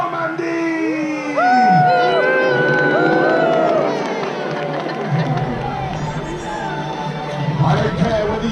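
A large crowd at a 1066 Battle of Hastings re-enactment roars and cheers loudly and continuously, with raised voices and shouts over a steady background hubbub.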